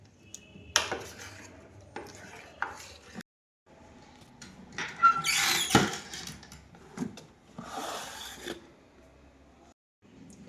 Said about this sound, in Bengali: হাত দেবো না বলে আমি চামচ দিয়েই করছি